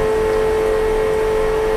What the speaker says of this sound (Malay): Kita nak start, minyak yang kita dah tapis akan pump balik